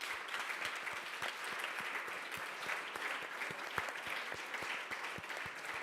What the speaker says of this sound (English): perhaps they also deserve a big round of applause